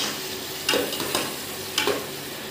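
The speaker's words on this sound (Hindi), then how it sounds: "प्याज को ब्राउन कर लेना है" Onions browning in oil in a frying pan for a moong and masoor dal tadka, a soft steady sizzle with a few louder stirring scrapes, close and alone.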